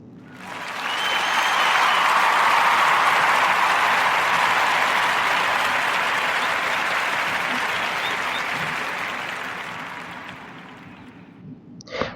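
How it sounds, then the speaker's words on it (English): Sustained applause from a podcast audience rises quickly, holds steady and loud for about ten seconds, then tapers off near the end. "I want to give a warm Narrative Podcast round of applause for Chandra Greer and Greer Chicago."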